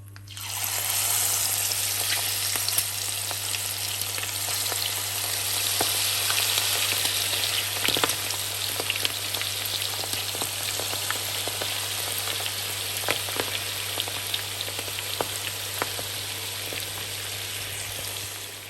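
Steady, loud sizzling of prawns frying in hot oil, continuous crackle and hiss with occasional pops, no talking.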